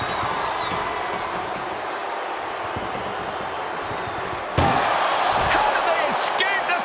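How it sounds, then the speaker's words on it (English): An ambulance door slams shut with one sharp, loud bang in a wrestling video game, following several seconds of steady crowd and arena noise. "Trying to at least slam one door shut."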